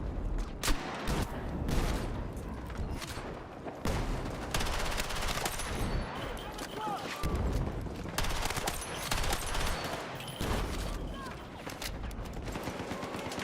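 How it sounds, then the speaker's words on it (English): Unsuppressed CZ gun blasting in Battlefield 6, sharp close reports in rapid bursts layered with distant battle gunfire, steady throughout the whole stretch with a hint of voices underneath. "using the CZ unsuppressed does sound kind of badass"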